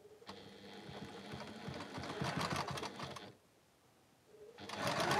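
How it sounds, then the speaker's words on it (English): Sewing machine chain piecing quilt blocks: a fast, even mechanical whir of stitching that runs for about three seconds, stops briefly, then starts up again, close and clear with no talking. "You know I like a bit of chain piecing."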